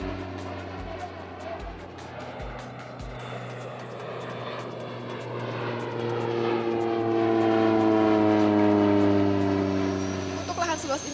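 A propeller airplane flies low over farmland, spreading urea fertilizer; its steady droning engine note holds throughout, growing louder and shifting in pitch as it passes close by.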